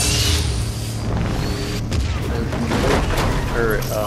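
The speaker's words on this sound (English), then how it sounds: "Alright, you can shoot the gun." Gunfire in Fortnite, a rapid volley of several sharp shots and bursts ringing out across a few seconds, loud and close, with a voice talking over the gameplay.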